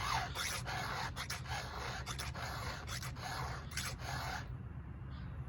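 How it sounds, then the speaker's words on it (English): A hand file rasps across the teeth of a saw chain, a steady run of close, rhythmic scraping strokes that stops near the end, with no talk. "You want a third of the file to stick above the tooth."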